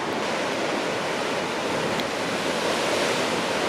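Ocean waves wash through a rocky sea entrance near Thunder Cave on the Great Ocean Road, a continuous close roar of surf with gusts of wind buffeting the microphone.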